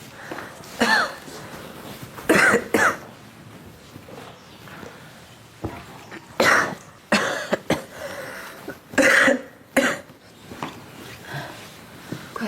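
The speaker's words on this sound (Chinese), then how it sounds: "怎么又咳嗽了？" Several short, sharp coughs come in scattered bursts, close by, with quiet pauses between them and no speech.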